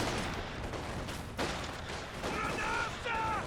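A battle in a competitive ESL video game match, with Panzerschreck rockets fired amid gunfire: a continuous, dense roar of shots and blasts with a few sharper bursts, and a voice talking over the fighting.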